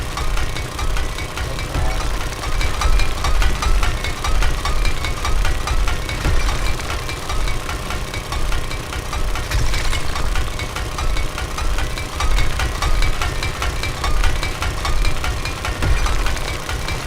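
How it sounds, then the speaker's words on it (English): An auger engine runs in the survival video game 7 Days to Die with a loud, continuous, rough chugging drone that holds steady throughout and has no pauses. "the auger's gonna run out of fuel pretty soon"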